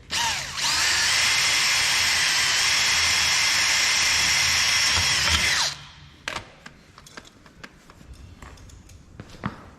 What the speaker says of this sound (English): One last check and drill it.